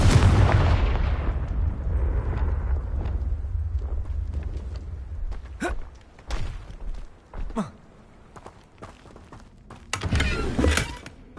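A fiery Confringo spell explodes in Hogwarts Legacy, opening with a heavy booming blast that rumbles and fades, then a few sharp crackling zaps and a second burst near the end.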